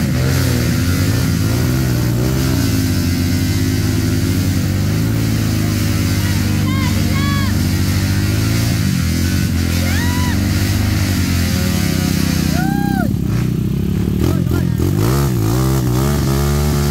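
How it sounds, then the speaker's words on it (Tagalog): Many motorcycles rev loudly and continuously on a dirt trail during a Bulacan off-road event stage, with overlapping engine whines rising and falling close by and a constant rough drone beneath. "Ang daming motor nito."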